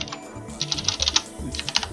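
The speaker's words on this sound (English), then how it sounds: "So what we can do is just type in" Fingers typing on a computer keyboard, quick irregular bursts of close, crisp key clicks over about two seconds with brief pauses between runs.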